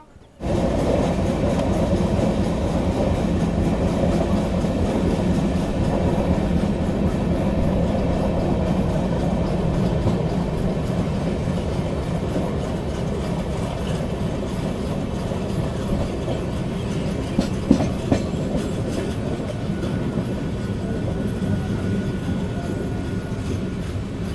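Interior rumble of the Patna-Katihar Intercity Express running on the rails, a steady loud low roar with faint rhythmic wheel clatter and a couple of brief clanks, continuous for over twenty seconds.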